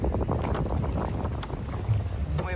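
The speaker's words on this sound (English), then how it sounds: "It's getting quite windy here now." Steady wind gusting and rumbling against the microphone, a broad low roar that stays loud throughout with no speech.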